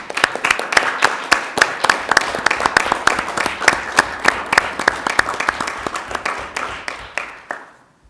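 A room at a city council meeting applauds a proclamation honoring a retiring community member, with loud, close clapping in sharp, fairly regular strokes that keeps going for several seconds before stopping abruptly.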